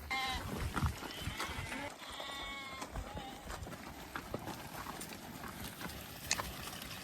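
A flock of sheep being herded in Mongolia bleating repeatedly at middle distance, with hooves clopping and people talking quietly in the background outdoors.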